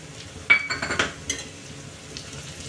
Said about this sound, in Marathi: आता आपण त्यामध्ये टाकूया हे मेथी दाणे.